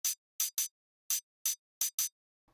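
Seven short, bright, hissy hi-hat hits in an uneven quick pattern, crisp and piercing with a sharp metallic edge, separated by silence.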